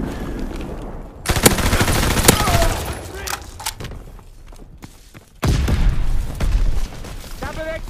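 Call of Duty WW2 battle, with dense machine-gun bursts and heavy booms of an incoming bomb over a continuous rumble of gunfire, loud and close, and game voice callouts mixed in.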